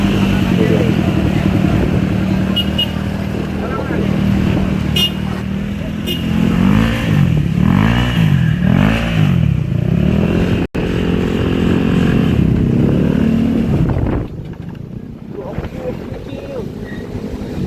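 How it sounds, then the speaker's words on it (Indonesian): An ALVA N3 first-generation electric motorcycle motor whirs continuously while riding, with strong wind buffeting and splashing, pitch swelling and dipping; voices talk over it at times. "Mesin gue masih nyala."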